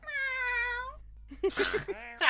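A voice imitates a loud cat meow, one long drawn-out wavering call, followed by laughter and chatter from a small group of tabletop role-play players.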